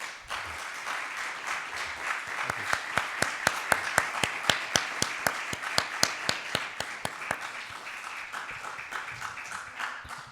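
An audience applauds at the close of a lecture, a dense steady clapping with some sharp individual claps standing out, building early, then gradually thinning and fading toward the end.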